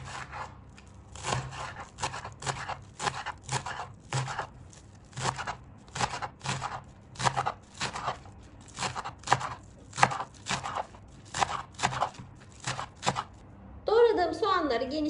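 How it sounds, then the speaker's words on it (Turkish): Green onions are finely chopped with a knife on a board, giving a brisk, even run of close, crisp cuts for most of the stretch, then a brief rustle at the end. "Şimdi ince ince doğruyorum."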